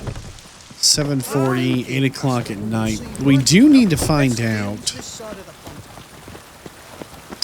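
Pouring rain in the video game The Witcher 3 makes a steady, soft hiss throughout, partly masked by someone talking over it.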